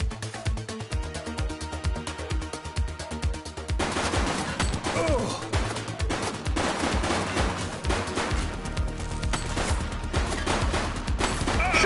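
Sustained gunfire from a shootout in the police game The Precinct, rhythmic shots at first then a dense, loud barrage of rapid fire lasting several seconds, close and unbroken.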